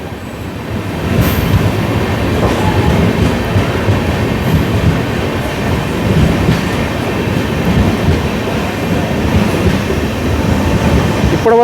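A Tiruchanur–Nanded weekly express rolls out of Karimnagar railway station with a loud, continuous rumble and clatter of wheels on track, steady and close for the whole stretch, without talk.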